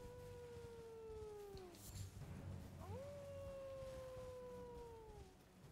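A werewolf howls in the Elden Ring video game, two long, drawn-out descending howls carried over a steady low hum of game ambience, faint and distant-sounding.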